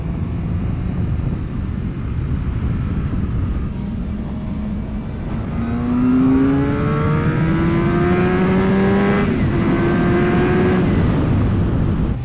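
A Suzuki GSX-R750 middleweight sport bike under way, its engine note rising steadily as it accelerates, with rising harmonic whine over heavy wind rush; loud and continuous, no talking.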